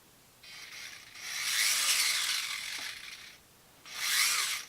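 A small 1:32 scale RC dune buggy's electric motor and low-ratio gearbox whir in bursts, a faint start building to a steady mechanical buzz for a couple of seconds, dropping away, then a second short burst, no talk.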